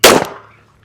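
A single sharp gunshot from a .45 ACP pistol firing a 230-grain XTP round, loud and close, with a quick decaying tail and no voices.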